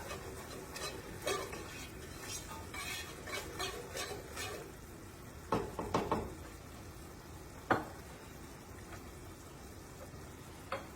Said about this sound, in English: We've got to have a little allspice in our gravy. Stir that up.